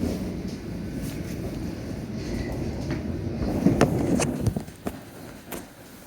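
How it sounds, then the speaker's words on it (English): A London Underground Metropolitan line train running out of Watford toward Aldgate at night in the rain, a steady low rumble and rattle with some wind noise, rising slightly with a few sharp clanks and squeals near the end. "just leaving Watford on this Metropolitan line train to Aldgate"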